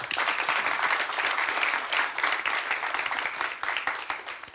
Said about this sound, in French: Venez, cher ami, on peut l'applaudir, s'il vous plaît.